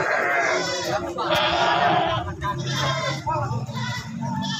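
Peranakan Etawa goats at a goat contest for the regent's trophy in Pacitan bleat loudly and repeatedly, with wavering cries that overlap a busy crowd background.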